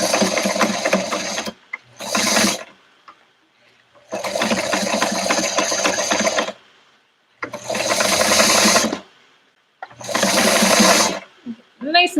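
A sewing machine stitches back and forth on a fabric face mask in loud, close bursts of rapid mechanical whirring, separated by short quiet pauses, five runs in all.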